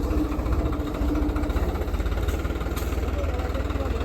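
A New Holland 3600-2 farm tractor idles during wheat sowing, its diesel engine thrumming in a steady low rhythmic pulse nearby, with some background voices.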